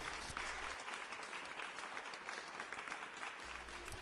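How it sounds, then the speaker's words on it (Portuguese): A church congregation bursts into dense, steady applause in praise, a continuous crackle of many hands clapping, sustained and fairly even throughout. "Dê um aplauso de louvor ao Senhor nessa hora."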